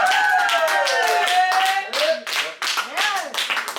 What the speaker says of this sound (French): Pour une première fois, et les premières fois, ça s'applaudit.